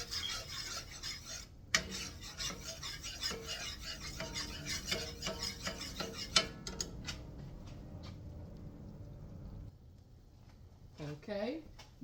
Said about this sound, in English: With gravy, you want to do a lot of stirring.